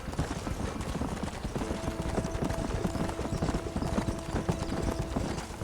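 A horse gallops in Red Dead Redemption on PS3, its rapid hoofbeats drumming steadily and close throughout, with faint game music underneath and no talk.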